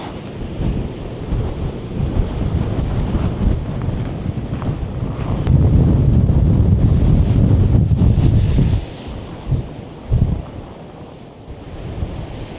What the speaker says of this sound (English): there's some great shots of the waves here as they crash right over this mountain of snow